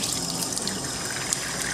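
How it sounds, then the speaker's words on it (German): Water splashed onto a face during a fasting experiment, a steady close wash of trickling, running water with small splashes throughout, no talking. "ich darf Wasser an mein Gesicht machen"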